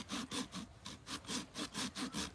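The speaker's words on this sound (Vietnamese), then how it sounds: "Bây giờ em cưa nhá." A genuine Top folding hand saw with a red handle cuts through a dry, tough jackfruit branch, making about eight quick, even back-and-forth rasping strokes, close and loud, with no talking.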